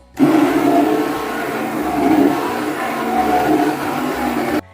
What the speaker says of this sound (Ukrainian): Далі буду збивати блендером.